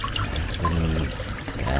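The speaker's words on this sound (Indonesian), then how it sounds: "kalau begini kan suaranya tetap ada, suaranya air tapi kecil dia" Water trickles softly but steadily into a narrow koi pond channel, a continuous close stream heard beneath someone talking throughout.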